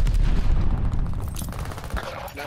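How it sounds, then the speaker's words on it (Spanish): Gunfire and explosive blasts from a team deathmatch in Call of Duty: Vanguard, with a thrown grenade going off among dense, loud, continuous battle noise and game voices. "¡Lanzando granada!"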